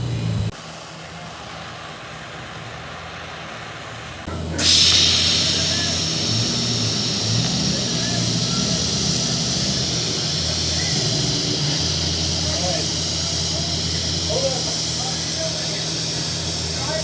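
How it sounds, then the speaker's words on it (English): A torch heats a cast steel differential housing on a Dana 44 axle, a loud sustained roaring hiss that starts abruptly partway in and continues steadily to the end, with a quieter hum before it. "So now I'm gonna heat the differential housing, the cast steel."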